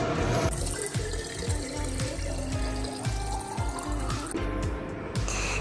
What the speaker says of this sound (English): Let's go ahead and fill up some water for the dogs.